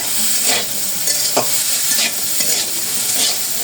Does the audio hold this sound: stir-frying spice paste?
yes